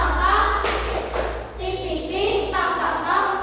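Children clapping in a rhythmic classroom chant, short bursts of hand claps alternating with group chanting voices, close and moderately loud.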